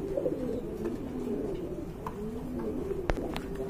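Pigeons coo softly and continuously at close range, low rolling calls overlapping with a few faint chirps and small clicks.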